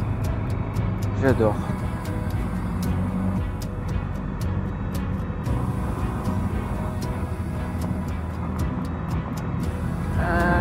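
A motorcycle rides steadily along a winding mountain road toward La Madone d'Utelle, its engine drone continuous and close throughout, with a person speaking briefly over it.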